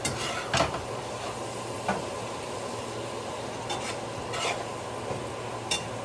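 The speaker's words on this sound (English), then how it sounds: "we'll brown our meat and then we'll drain all this fat" Ground meat browns in a pan for empanada filling, giving a steady close sizzle broken by a few sharp scrapes and clinks of a spoon stirring against the pan.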